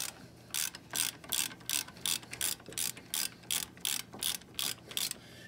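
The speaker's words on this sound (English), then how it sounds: "we're just gonna use a ratchet and a ratcheting wrench to get these out" Ratchet and ratcheting wrench loosening bolts near the wheel of a 2000-2007 Chevy Tahoe, a steady series of about a dozen rapid, close clicking bursts in even rhythm with short pauses between.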